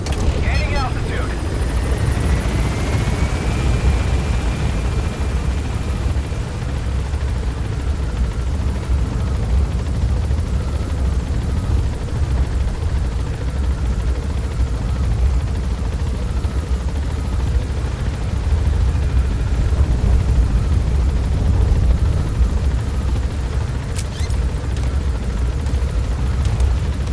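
A helicopter gaining altitude in the video game Metal Gear Solid V: The Phantom Pain, a steady, loud rotor and engine drone running throughout with brief mechanical clicks, and talk over it.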